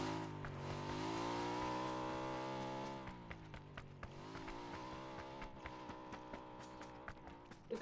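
Road traffic passes by along a street, with a loud vehicle engine droning and shifting pitch as it goes past, followed by quieter ongoing traffic noise and scattered clicks.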